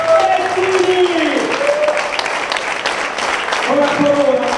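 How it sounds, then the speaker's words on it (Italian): Audience applause and cheering for a cycling world champion at a celebration event in Italy, a steady broad wash of clapping throughout with a voice over the crowd. "siamo pronti a dare tutta la nostra riconoscenza con un grande applauso al campione del mondo di Paolo Bettini!"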